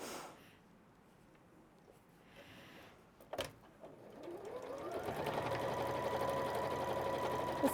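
Domestic sewing machine tacking fabric tabs onto the reverse of a picnic blanket, starting after quiet handling noises with a small clunk, then running steadily and fairly loud for the last few seconds.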